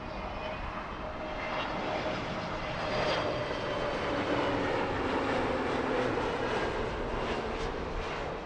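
A large airliner flies near Heathrow Airport, its steady engine roar holding loud and continuous throughout and swelling slightly midway as it passes, with no voices.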